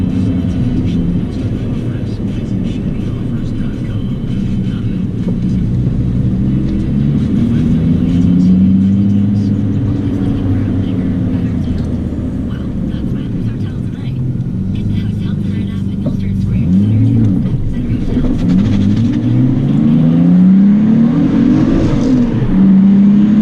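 A Nissan R32 Skyline's engine runs after a coolant hose install, holding a loud, steady idle close by, with a few rising and falling revs toward the end.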